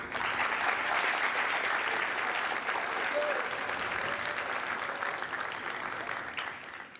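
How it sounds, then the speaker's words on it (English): A room full of people applauding and cheering at a school letter-of-intent signing ceremony, dense continuous clapping with a few voices rising above it, loud and sustained. "the sheer amount of applause and cheers that are going on in this room"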